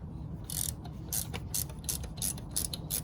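A ratchet wrench clicks in quick bursts as it loosens a 14 mm bolt on the alternator pulley of a 2003 Nissan Altima 3.5, several rapid rasping strokes spaced by brief pauses, quiet and close in a garage.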